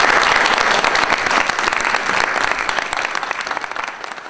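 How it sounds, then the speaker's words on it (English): A crowd at a Fauquier County ceremony honoring civil rights pioneers breaks into loud, dense applause. The clapping is sustained and close, then eases slightly toward the end. "please join me in a round of applause"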